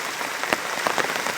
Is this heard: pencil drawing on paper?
no